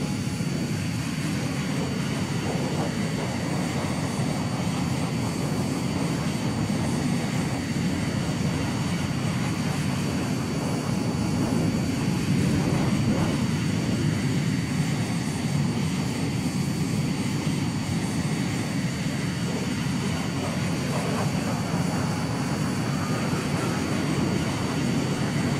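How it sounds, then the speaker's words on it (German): Steady roar of an A-10 jet in a flight combat video game, flying close alongside, a continuous loud engine drone with broadband rumble that holds for the whole stretch. "Oh, die A10 fliegt neben mir."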